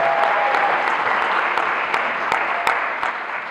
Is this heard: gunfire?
no